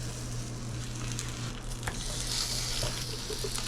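Lamb arayes brushed with olive oil sizzling in a hot pan, a continuous close crackle and hiss with a few sharper pops and spits, steady throughout.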